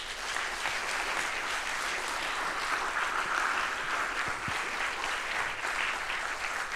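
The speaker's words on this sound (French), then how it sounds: "je crois qu'il mérite qu'on l'applaudisse" An audience claps steadily throughout, a dense, even round of applause with no voices over it.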